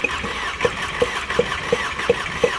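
A 2010 VW Golf GTI engine with a cylinder 3 misfire cranks with a steady, evenly spaced pulsing beat of about six or seven compression strokes over a low mechanical drone, close by and moderately loud.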